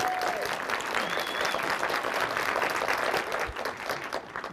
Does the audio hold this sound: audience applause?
yes